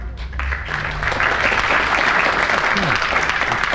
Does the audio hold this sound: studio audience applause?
yes